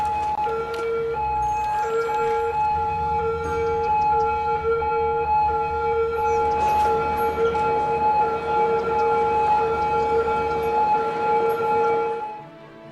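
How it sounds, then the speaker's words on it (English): Several ambulance sirens in the city-building game Cities: Skylines wail steadily together, loud and continuous, with a busy ambient hum underneath, fading out at the very end. "Yeah, the ambulances can get a bit loud."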